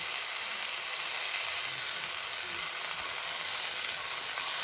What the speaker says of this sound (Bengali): একটু তেলেতে ভালো করে না কষিয়ে নিতে পারলে ভালো লাগবে না খেতে